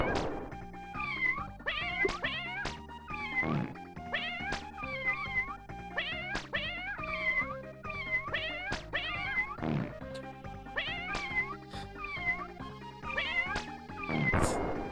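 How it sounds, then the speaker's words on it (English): Repeated cartoonish cat meows from the SNES game The Addams Family: Pugsley's Scavenger Hunt, tonal mewing calls in quick succession over looping game music, with a few louder crashing hits. "did the sound effects for these fucking cats"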